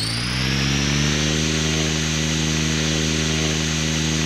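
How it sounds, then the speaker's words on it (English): Steady, high-pitched whine of a small electric RC helicopter motor spinning at constant speed in idle-up stunt mode, close and loud, with no pauses throughout. "So I always have to have the switch to turn my helicopter motor on and off."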